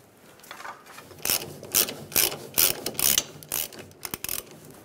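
Socket ratchet tightens the fuel pump bolts on a 1999-2006 Chevrolet Silverado 1500 in a series of quick, close clicking strokes. The strokes come in uneven bursts over a low background.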